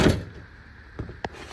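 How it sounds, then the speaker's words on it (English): The screen door of a 2016 Thor Majestic 28A RV closes. A rushing shuffle at the start is followed by two sharp clacks of the door meeting its frame, close and fairly loud. "To separate the screen door, you just press this down and you can close the screen door"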